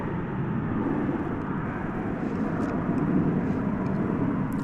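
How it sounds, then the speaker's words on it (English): An American Airlines jet taking off at DFW at night produces a loud, sustained engine roar with a heavy low rumble that holds steady throughout, with no one talking. "This is American Flight 2281 going to San Antonio, Texas."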